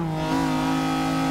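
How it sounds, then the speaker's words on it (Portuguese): McLaren F1 GT with its V12 engine accelerating hard in Forza Motorsport 6, a loud, steady, high-pitched mechanical drone held at high revs near top speed, with no talk over it. "Ele acelera, ele tem uma aceleração rápida"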